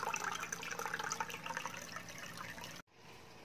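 Water pours and splashes into a cooking pot of mung beans, close and fairly faint, ending suddenly before a brief silence.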